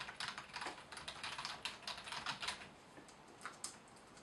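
Typing on a Logitech K360 keyboard, a quick, uneven patter of loud, somewhat cheap-sounding clicky keystrokes close up, heard alone with no talking.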